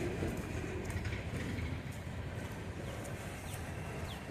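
BNSF 9253 coal train rolling through Effingham, Illinois: a steady, fairly distant rumble of wheels on rail with faint clatter, continuous throughout, with no talk.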